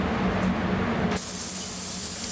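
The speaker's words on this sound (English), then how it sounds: "Always test spray your gun first, don't just start spraying on the panel" A paint spray gun doing a test spray before coating a car body panel: a steady, loud, close hiss that holds throughout and gets brighter and sharper partway through, with no talking.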